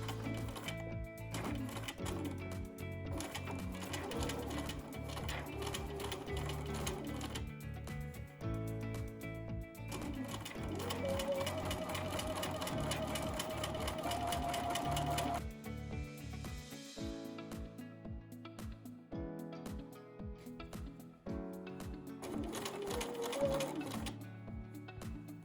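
A sewing machine stitches through layers of a blanket with elastic at the hem, running in long rapid bursts with a few pauses and restarts, fairly quiet and steady.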